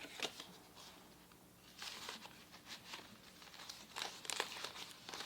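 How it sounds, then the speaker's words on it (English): A paper lunch bag crinkles and rustles as hands handle it, quiet irregular crackles coming in bursts, close and alone without talk. "A paper bag, a lunch bag."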